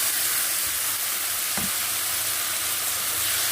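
Mashed tomato hitting a pan of lightly fried onions for a Bengali tomato bharta, giving a steady close sizzle with a brief louder splash partway through.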